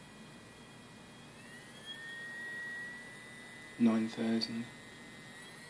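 A brushless DC motor driven by an ESC spins up to high RPM, a thin rising electric whine that stays faint under a voice speaking briefly.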